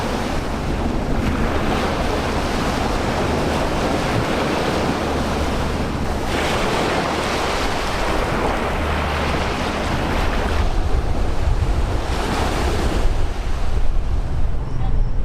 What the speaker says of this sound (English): So here we are, back down on the beach in Pattaya.